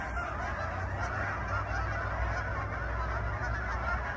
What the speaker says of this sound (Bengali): এরকম কলকাকলি